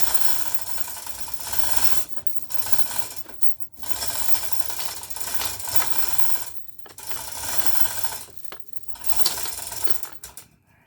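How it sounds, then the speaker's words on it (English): A ratchet clicks in quick bursts while tightening bolts on the rear shock of a 2025 RPS Hawk 250 DLX, with several close rapid runs broken by short pauses. "this is actually going to be my attaching the bolts for this rear shock"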